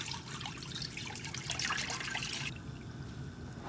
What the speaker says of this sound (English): So it's already gas on, so I'm going to put milk there.